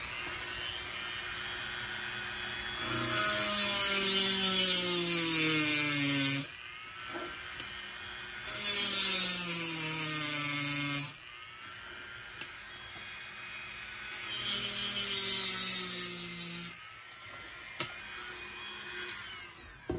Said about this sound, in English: you're going to want to start with a Dremel just to get a hole started